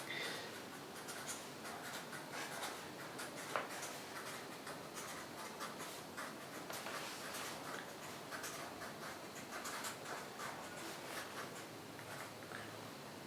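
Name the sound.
writing notes by hand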